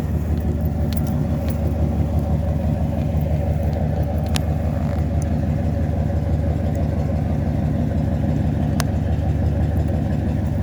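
Two cars idle and run together, one with a gas leak fault and a little smoke from the back, a steady low engine rumble filling the whole stretch with no talk over it.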